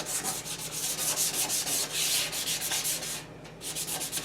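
Rhythmic back-and-forth sanding rasps loudly over a rusty metal school desk, strokes coming in quick succession, with a brief pause near the end.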